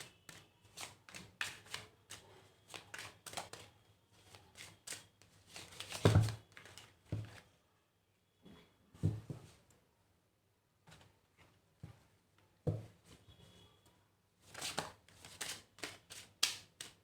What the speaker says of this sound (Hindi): बहुत ज़्यादा कार्ड्स गिर रहा है।